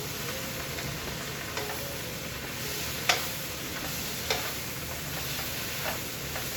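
Onions and spinach fry in a pan for Korean japchae, giving a steady, even sizzle, with a few faint utensil taps on the pan. No voices are heard.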